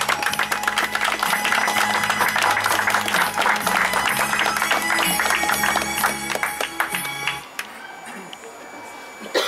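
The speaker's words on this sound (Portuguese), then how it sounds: "Uma salva de palmas," Applause and cheering fill a police retirement and farewell party, steady and loud throughout, with music or a sung tune mixed in before the crowd noise drops off near the end.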